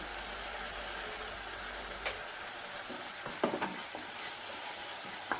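Banana halwa stirred steadily in a pan over a low flame, a soft continuous sizzle with a few scraping spoon strokes near the middle and end, fairly quiet throughout.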